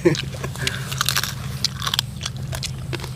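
Crispy fried pork skin is bitten and chewed up close at an outdoor meal beside rice fields, with loud crackly crunches over a steady low background hum and murmur.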